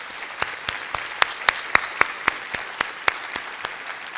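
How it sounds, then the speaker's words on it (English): A morning charity breakfast audience applauds with loud, rhythmic claps, a steady series of sharp hand claps spaced about every third of a second, like a smaller group clapping together in a hall. "Let's give them a round of applause."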